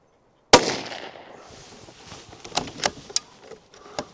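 One sharp, loud crack from a .17 HMR Ruger Precision Rifle rings out after a brief silence, followed by a few faint clicks and handling noises.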